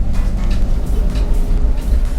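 A 2002 Ford Escort van with almost no front grip thrown through a corner in third gear, heard from inside as a loud, steady engine and road drone with rumbling low-end vibration throughout.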